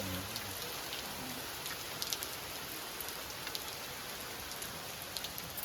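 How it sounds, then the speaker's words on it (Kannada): Heavy rain falls steadily among dense trees and plants, a soft even hiss of countless drops with faint scattered patters, continuous and alone without voices. "ಆ್ಯಕ್ಚುಲಿ ಇವಾಗ ಮಳೆ ತುಂಬ ಜೋರಾಗಿ ಬರ್ತಾ ಇದೆ"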